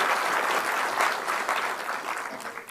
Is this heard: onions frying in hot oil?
no